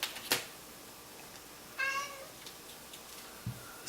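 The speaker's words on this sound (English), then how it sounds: "There's my cat behind me." A house cat gives a single clear meow in the background of a quiet room, set between a few faint knocks and rustles.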